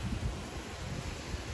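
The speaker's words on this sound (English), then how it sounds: "This is what the winds are right now." Wind blows outdoors at an RV site in Florida ahead of a hurricane, a steady close rush with microphone buffeting and no voices for a moment.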